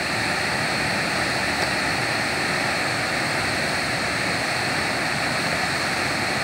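Rushing water at a waterfall in Antônio Dias, Minas Gerais, makes a loud, constant roar with no breaks, close by and unaccompanied by voices.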